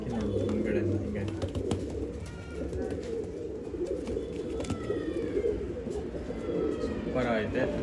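Pigeons offered for sale in Bangalore coo in steady low throaty calls that fill the whole stretch, close and continuous, while people talk nearby and a distant siren-like wail drifts through.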